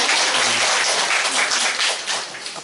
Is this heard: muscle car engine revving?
no